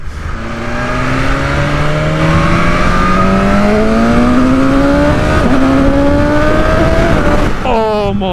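BMW S1000RR motorcycle in dynamic mode accelerating hard, its engine climbing through the revs in one loud, sustained rising pull with a brief shift break, ending in a sharp snap up to high revs.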